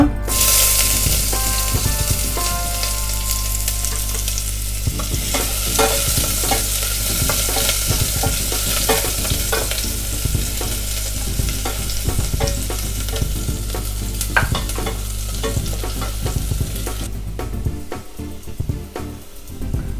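Finely chopped small onions sauté in a pan, a loud, close, continuous sizzle with steady stirring scrapes and clatter, easing off toward the end.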